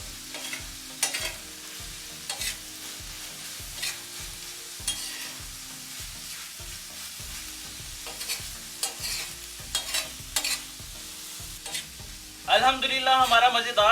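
Mutton keema frying on a flat iron tawa, dhaba style, with steady sizzling and a regular rhythm of spatula scrapes and stirs, growing louder and brighter near the end.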